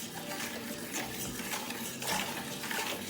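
Sugar, salt and two eggs are stirred together for cinnamon roll dough, making a continuous scraping, clinking stir with small irregular knocks of the utensil against the bowl.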